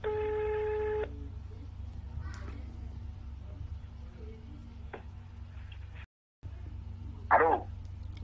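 A phone is dialed to call Kylian Mbappé: a quick run of stacked DTMF keypad tones plays loudly over a steady low hum for about a second, followed by quieter room noise with faint voices and a brief clatter.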